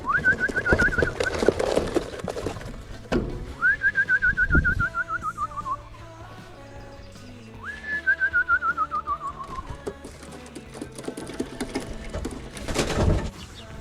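Racing pigeons coo in a loft, a run of soft rhythmic cooing, mixed with rising and falling whistles and occasional knocks and thumps close by.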